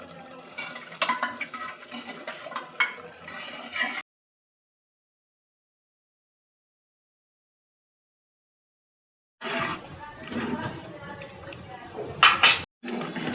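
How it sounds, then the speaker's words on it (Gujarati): Dal poured into a pot of cooked tomato-masala gravy for Rajasthani dal baati, a splashing, gurgling pour heard close in two stretches separated by silence, with a voice at times. "હવે આપણે દાળ નાખીશું."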